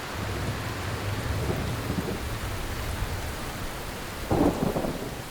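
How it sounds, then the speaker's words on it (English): Monsoon rain pours steadily over Bandhavgarh forest in July, with deep rolling thunder rumbling low through the first half and a brief louder crack of thunder near the end, no voices. "When the monsoon season arrives in July, Bandharvgarh gets its annual drenching, 2 months of high winds and rain."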